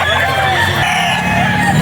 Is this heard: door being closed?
no